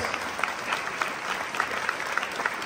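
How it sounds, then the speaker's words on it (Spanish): A church audience applauds after a Bible reading, brief even clapping with a few sharper individual claps standing out, moderately distant. "Un aplauso a la palabra de Dios"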